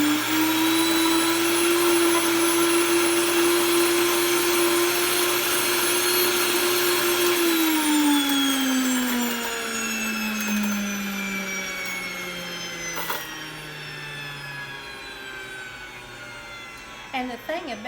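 A loud electric grain mill grinding grain poured into its hopper roars steadily, its whine holding then dropping lower as it winds down, with a few knocks near the end.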